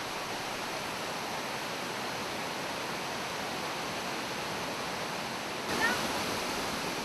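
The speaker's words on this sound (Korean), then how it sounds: "세상의 모든 슬픔을 씻어준다는 반티무릉 폭포" Bantimurung waterfall roars with a steady, dense rush of falling water that stays constant throughout and swells slightly near the end.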